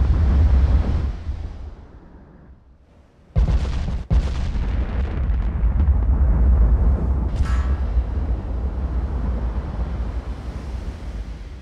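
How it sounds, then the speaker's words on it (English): Heavy naval gunfire from a warship's rear turret in Ultimate Admiral: Dreadnoughts, a couple of sharp booming blasts over constant rushing sea and wind noise. "I think we have only the rear turret firing now"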